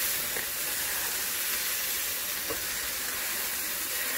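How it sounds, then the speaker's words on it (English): Pork chops sear in a hot pan with a steady, close sizzle and hiss of rendering fat, broken by a couple of faint pops and no talk. "I get all these sides seared, to make sure that you kind of render that fat"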